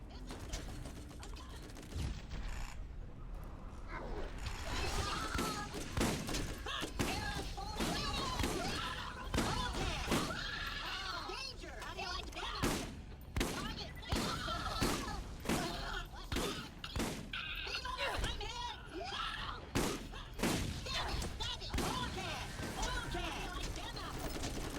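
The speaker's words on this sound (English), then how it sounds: "That's too much fire. That's too much assault rifle." Assault rifle gunfire in the video game Borderlands, rapid bursts of shots crackling in repeated clusters amid game effects, with someone speaking over the action.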